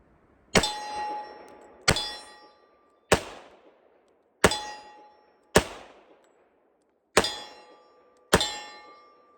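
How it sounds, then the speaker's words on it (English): A 1918-dated Colt U.S. Army Model 1911 pistol fires seven .45 ACP rounds at a range, each a sharp, loud crack with a brief ringing tail, spaced roughly one to one and a half seconds apart. "Colt, U.S. Army Model 1911. This is 7 rounds of 45 ACP"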